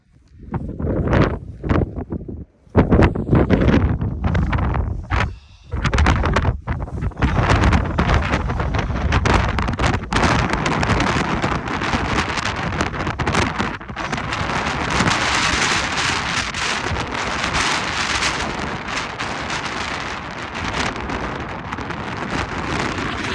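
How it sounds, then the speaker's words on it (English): Strong, gusty wind on the Crib Goch mountain ridge in Snowdonia roars and buffets the microphone continuously, with a few brief lulls early on before a steady loud rush sets in. "it's very windy."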